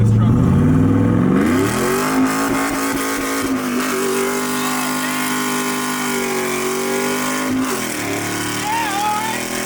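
A Chevrolet Silverado truck with a five-speed manual revs hard in second gear, the engine note climbing steadily, dipping briefly at a shift and pulling again, loud and close.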